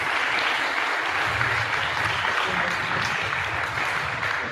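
An elementary school audience at Bethune Elementary's Black History program claps together, a dense, steady burst of applause filling the room for several seconds before tapering slightly.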